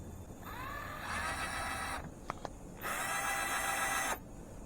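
WPL C24-1 RC truck portal axle spun freely by hand, giving a steady mechanical whir in bursts that wind up, pause briefly with a couple of small clicks, then whir again before stopping.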